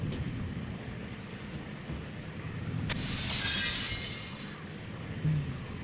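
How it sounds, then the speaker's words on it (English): Glass shatters in the survival horror video game Silent Hill: Homecoming, a single loud crash with a bright tinkling spray that rings for about a second over a low, rumbling game ambience. "Gotta break the glass."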